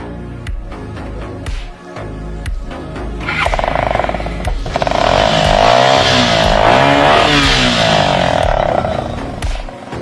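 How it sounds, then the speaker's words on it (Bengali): A motorcycle fitted with a modified silencer starts up and revs, a rough loud engine roar building and holding near, with clanking sounds before ignition and no talking. "আপনার গাড়িটা একটু স্টার্ট দেন তো"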